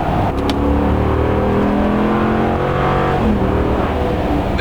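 A 2017 Ram Rebel pickup with a 5.4-liter HEMI V8 and 8-speed automatic pulls hard, its loud, steady engine drone rising in pitch as it accelerates, heard close with no talk.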